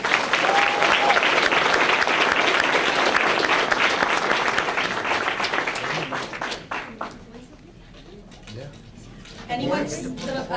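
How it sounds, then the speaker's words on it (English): Loud applause from a gathered crowd at a high school letter of intent signing day for an athlete, dense clapping that fades after about six seconds into quieter murmuring and voices talking. "Everyone, let's give her one huge round of applause"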